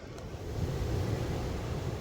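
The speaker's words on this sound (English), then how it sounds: "Hope you enjoyed the sounds of the waves." Ocean waves wash steadily onto the shore with a constant, full-bodied roar that stays loud and unbroken. No voices are heard.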